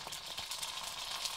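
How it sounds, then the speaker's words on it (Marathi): Puris for pani puri frying in hot oil, a brief continuous bubbling sizzle at moderate volume with a crackly texture and no voices. "तेलामधून तळायचं आहे"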